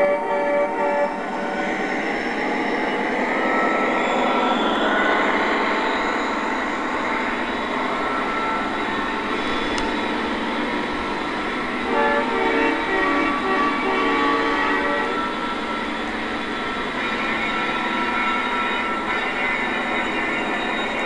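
Steady rumble and hum of a Lionel SD70ACe model train pulling out with an engine in the middle, with faint whistle-like tones and clicks, continuing throughout without talk.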